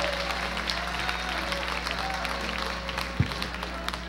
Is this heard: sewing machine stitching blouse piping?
no